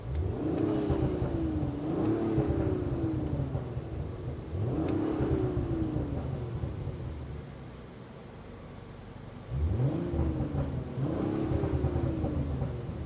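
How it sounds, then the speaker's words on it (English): A 2022 Audi RS5 (B9.5) engine on E85 fuel revs up repeatedly in bursts during tuning, rising and falling in pitch, with a steady idle rumble between revs; close and loud. "Just give it a couple revs."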